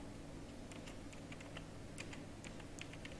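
Faint, scattered key clicks from a computer keyboard while entering a salary sheet in Excel, irregular taps over a steady low background hum.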